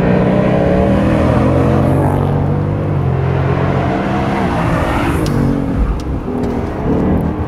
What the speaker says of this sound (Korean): 배기 사운드가 강렬한데요.